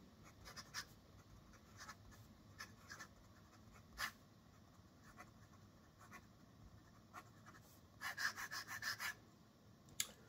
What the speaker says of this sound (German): Schnell schreiben.